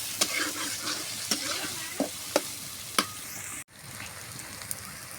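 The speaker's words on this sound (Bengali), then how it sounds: "এখন তেলের সাথে আমি পেঁয়াজের সাথে এটাও ভাজা ভাজা করে নেব।" Onions, ginger paste and crushed garlic fry in hot oil for a duck curry, sizzling steadily while a spoon stirs and scrapes the pan in several sharp strokes, with a brief clunk partway through.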